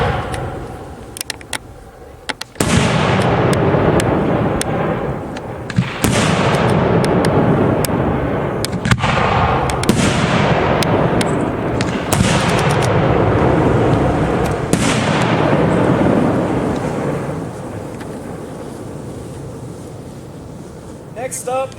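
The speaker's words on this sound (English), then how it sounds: "We're going to go into our 5-inch shells now. We'll start off with Freedom 5s." 5-inch Freedom 1.3 aerial shells from a custom ATF assortment launch with sharp thumps and burst in booming, crackling reports that repeat several times, with wind noise and voices in the background.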